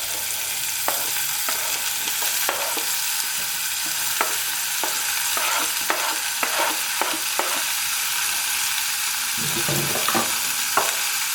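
Chopped onion frying in olive oil in a pan, a steady bright sizzle throughout with repeated clicks and scrapes of a stirring utensil, no voices.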